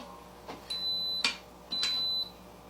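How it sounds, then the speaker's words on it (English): An Instant Pot pressure cooker beeps twice as it switches to sauté mode, each high electronic tone held for about half a second and preceded by a faint button click, heard alone in a quiet room. "That beep just means I switched to saute."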